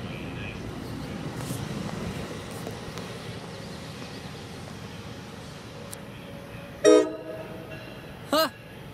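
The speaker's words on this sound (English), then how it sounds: "the horn you'll hear from once the train departs is actually not from engine number 28, former MP36 PH-3C, instead cab car 8057" A MARC commuter train's horn sounds from cab car 8057 as it departs BWI, two loud blasts, one long and one shorter, over a low rumble of the rail yard.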